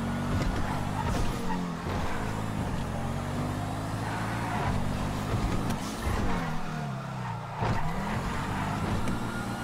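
Engine of a video-game car rising and falling as it is driven hard through corners, with brief tyre squeal, loud and continuous throughout with no voices over it.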